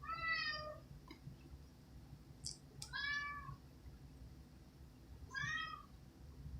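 Three separate meows from a pet house cat, close and distinct, spaced a couple of seconds apart against a quiet indoor hum, no voices.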